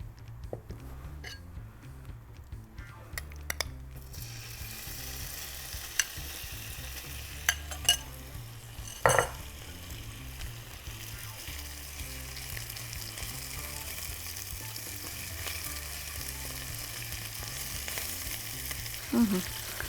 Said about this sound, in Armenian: արդեն սկսում ենք տապակել